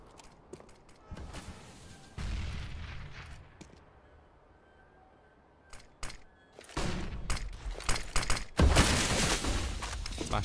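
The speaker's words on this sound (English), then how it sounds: "Flashbangs trying to slow down the push." Flashbang grenades bursting in Counter-Strike on the Train map during a competitive match, a series of sharp blasts mixed with gunfire, quieter in the middle and growing louder and denser toward the end.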